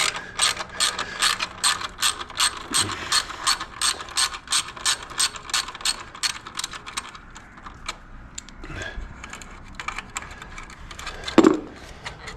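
A ratchet loosens an exhaust bolt on a BMW S1000RR motorcycle, a quick run of sharp close clicks that slows and thins out, ending with a metallic clunk.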